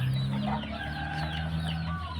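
Young cockerels of a white Yia cross clucking in front of a house, a steady overlapping stream of calls from several nearby birds with no voices.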